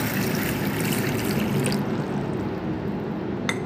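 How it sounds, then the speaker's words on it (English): Water splashes steadily into a bowl of whole moong dal set to soak, a continuous close trickling pour lasting a few seconds with no talk. "I'm going to add water to it"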